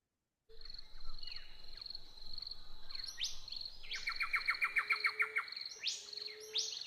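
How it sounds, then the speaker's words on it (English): Birdsong fills the air, with repeated bright chirps and trilling calls from several birds sounding close and clear over a faint, steady insect hum. "Just let the birdsong soothe you"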